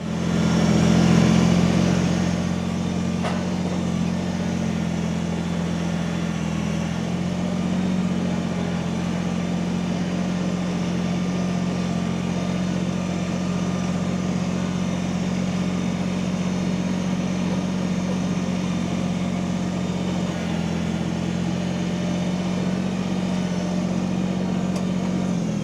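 A tractor engine idles steadily and continuously with a low, even rumble and a slightly rough hum, holding the same level throughout with no voices heard.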